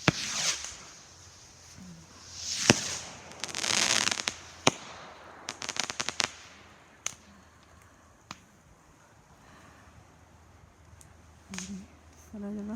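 Fireworks rockets on bonfire night launch and burst in a string of sharp, loud bangs and crackling explosions, some close and some farther off, with brief whooshing launches and quieter gaps between bursts.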